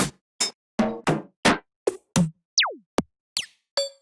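Eleven short percussion hits from an electronic dance sample pack in STMPD style sound one after another at a steady pace, dry clicks and knocks with one falling pitched zap among them, crisp and close with no talking.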